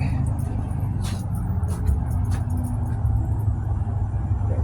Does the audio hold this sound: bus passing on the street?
yes